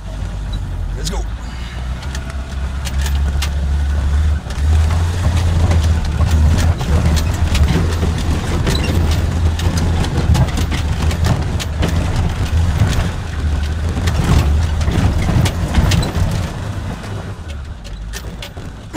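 A 4x4 engine runs with a steady low rumble and occasional clunks and rattles close by, while someone talks over it at intervals.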